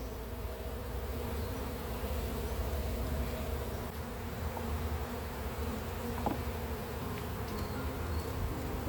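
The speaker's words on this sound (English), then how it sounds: "there's a lot of bees on the edge." A steady, dense drone of many honeybees buzzing close by around an open hive box, continuous and fairly loud with no talking.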